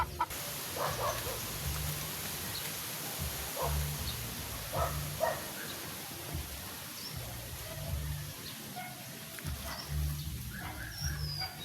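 Hens in a backyard coop near egg-laying, with repeated low clucks in short bursts amid rooster calls and a steady ambient outdoor hum, moderately distant.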